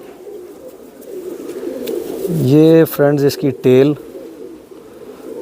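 Teddy pigeons coo in a low, soft, continuous murmur close by, while someone speaks over them in the middle of the stretch.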